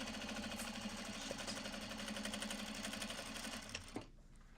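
Sewing machine running steadily, topstitching canvas tote bags, a continuous close mechanical whir with a fast needle rhythm that cuts off abruptly near the end.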